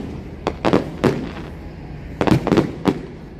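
Fireworks go off outside in Los Angeles on July 3rd: loud, sharp bangs, first a few single blasts, then a quick cluster of pops, with no voices.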